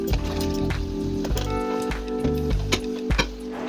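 Dishes are washed at a kitchen sink, with running water, splashing and small clinks of crockery going on steadily at close range.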